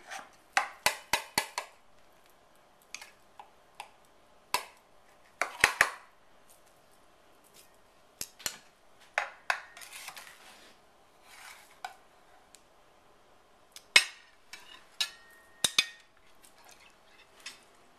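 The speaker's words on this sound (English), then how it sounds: "now we're going to cut a slice and put it on a plate and show you" A slice of Italian cream cake is cut and moved onto a plate, heard as sparse, faint clicks, taps and scrapes of a utensil against the plate, spread irregularly over a quiet stretch with no voices.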